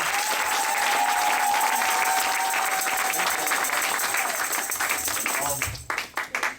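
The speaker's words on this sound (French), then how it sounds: "Oh, you can clap your hands better than that." A congregation at a Québec City worship event claps hands in steady, dense applause that thins out near the end into a few scattered claps.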